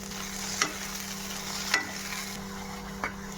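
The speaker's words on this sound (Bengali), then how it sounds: "এবার এই পেস্টটাও আমি সর্ষে পোস্তের মধ্যে দিয়ে ভালো করে কষিয়ে নেব" Spice paste being fried and stirred into a mustard and poppy seed paste in a pan: a steady low sizzle under three distinct scraping strokes of a spoon, spaced about a second apart.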